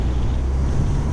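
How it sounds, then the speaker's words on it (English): Wind buffets the open cabin of a 2024 Mini Cooper S convertible driving along a lakeside road, a dense, low rumbling roar steady and close to the microphone, with no speech. "And it is windy. So hopefully you all can hear me."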